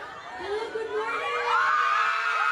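An excited crowd at a public event in Saudi Arabia shouts and cheers, with high-pitched screams rising and holding steady and loud throughout, mixed with some laughter.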